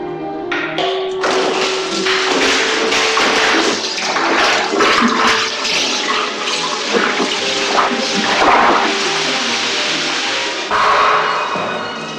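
Water gushes and splashes loudly against a wall of a 3D-printed home during a flooding simulation, a sustained rushing torrent with shifting splashes and brief surges, no voices.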